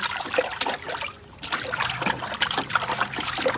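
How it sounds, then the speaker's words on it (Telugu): Water is poured over a dog, producing a steady, close trickling and splashing that runs for a few seconds without a break. "నేను నీరు వేస్తున్నాను"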